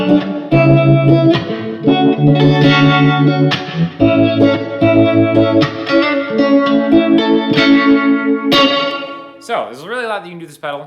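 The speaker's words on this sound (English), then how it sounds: "if you want to start bringing in a little bit of the tremolo into the reverb" An electric guitar through a tremolo and reverb pedal plays chords and notes drenched in wavering tremolo and spacious reverb, ending in a swirling, warbling wash of effect.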